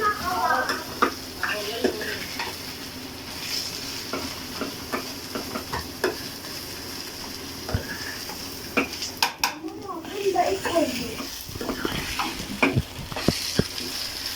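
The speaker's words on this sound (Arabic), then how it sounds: "يلا بقى نحمص فيه كده لما لونه ايه اصفر" Taro dish ingredients toasting in a frying pan until golden, with steady close sizzling, frequent stirring scrapes and metal utensil clinks against the pan.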